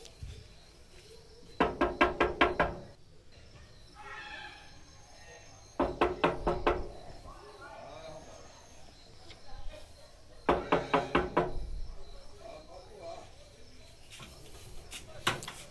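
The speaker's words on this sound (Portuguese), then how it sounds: "E eu vou bater na porta dele" Knocking on a door in three separate bursts of rapid raps, fairly close and loud, with quieter talking and background sounds in the gaps between them.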